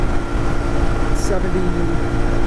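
A CFMoto Ibex 450 with a 15-tooth sprocket cruises on the highway at about 6,700 rpm, a dense, steady roar of engine and wind rush filling the short stretch without pause.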